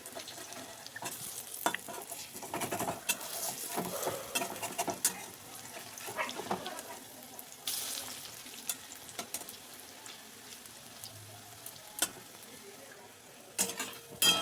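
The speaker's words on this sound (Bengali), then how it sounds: "এটাকেও ভালো করে ভেজে নেব।" Cabbage fritters deep fry in hot oil, a continuous close sizzle broken by the scrape and clink of stirring and turning.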